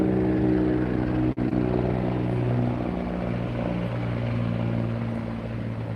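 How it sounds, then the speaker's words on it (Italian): An airplane drones steadily overhead beneath a dark, overcast sky, a loud continuous low engine hum with a slight tonal throb that holds level throughout. "ed è passato sta aereo"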